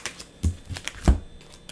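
A tarot card deck being shuffled by hand, giving a few soft papery riffles and taps in irregular bursts, close and fairly quiet with no talking.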